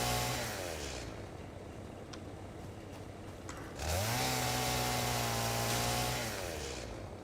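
A chainsaw in the Satisfactory video game roars loudly and steadily, first at a lower pitch and then revving higher for several seconds before tapering off, with no talking.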